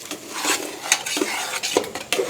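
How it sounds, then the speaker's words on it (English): A utensil scrapes and stirs through food in a pan in a few quick, close strokes, with a faint sizzle underneath. "let's give this a bit of a stir up, see if it breaks"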